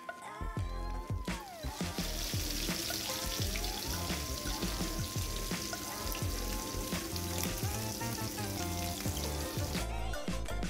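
Vanjaram fish slices marinated in masala fry in a pan with a steady, loud sizzle and crackling spatter that runs throughout, with no one talking.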